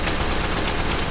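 A Team Fortress 2 scout gun fires fully automatic in a VR game, a dense, loud, unbroken burst of rapid gunfire filling the whole moment without any talking.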